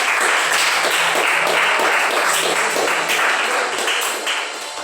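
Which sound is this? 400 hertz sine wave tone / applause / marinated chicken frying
applause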